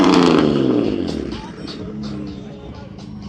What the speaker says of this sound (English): Porsche just stealthily rolling up to the line